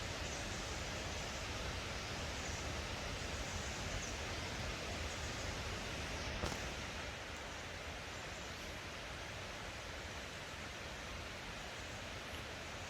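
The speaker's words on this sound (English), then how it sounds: "You can hear the sound of water streaming down on my left side." Water streams down steadily at a school grounds in Songkhla, a soft, even hiss of falling water that holds constant throughout, fairly quiet and with no voices over it.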